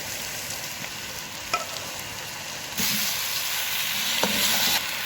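Garlic-ginger paste and onion fry in a pan with a steady sizzle that jumps sharply louder partway through, close-up, with occasional stirring knocks and no voices.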